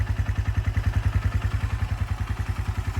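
A restored Suzuki GS150SE motorcycle idles smoothly around 1500 to 2000 RPM, its single-cylinder engine thumping in a fast, even, close-up rhythm with a light mechanical clatter over the steady beat.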